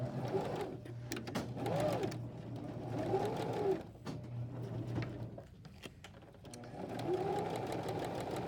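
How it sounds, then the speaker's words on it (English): A sewing machine stitching a backpack runs in steady whirring bursts with short pauses between them, close and clear, with light handling clatter and no talking. "Then we're going to get to the end here and do the back stitching."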